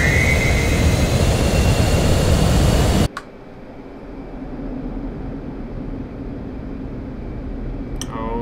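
An F-15C fighter jet's engine in the DCS World video game roars loud and steady at full throttle, then cuts abruptly to a quieter sustained hum with a faint click near the end.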